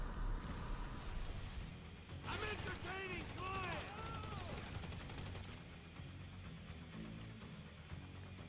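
Rapid gunfire in the GTA V video game, with sharp bursts of shots mixed with game sound effects and music over a steady background, moderately loud and up close.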